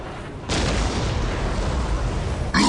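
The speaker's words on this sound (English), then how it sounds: "Where's that artillery coming from?" Artillery fire erupts in Warhammer 40k: Dawn of War, a heavy boom bursting in suddenly and rolling on as a loud sustained rumble, with a brief voice at the very end.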